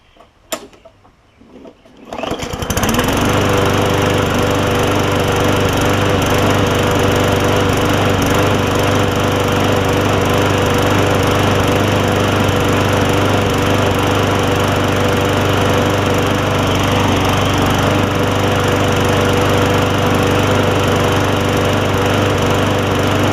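Murray 20-inch push mower engine with a Craftsman blade: a few quiet knocks, then it fires up after about two seconds and runs at a loud, steady, close-up high-pitched drone to the end.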